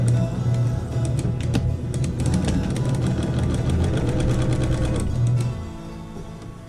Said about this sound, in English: I'm going to start sewing these together now